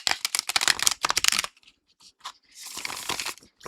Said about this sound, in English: instead of shuffling it like this, then I would do it the other way, like this